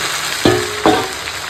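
Onion, ginger-garlic paste and chicken frying in a pan, a continuous sizzle with two sharp scrapes or clanks of a spoon against the pan.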